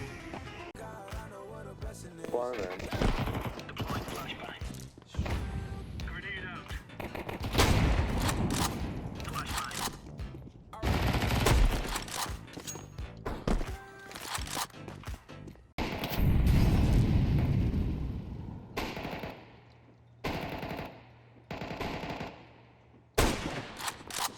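Rapid bursts of Counter-Strike 2 gunfire, machine-gun rattles and booms, dense and continuous with brief gaps, loud and close.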